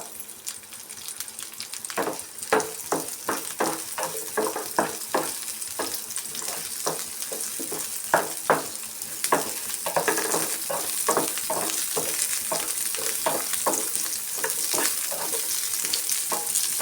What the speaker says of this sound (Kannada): ಈರುಳ್ಳಿನ ಚೆನ್ನಾಗಿ ಆಯಿಲಲ್ಲಿ ಫ್ರೈ ಮಾಡ್ಕೊಬೇಕು.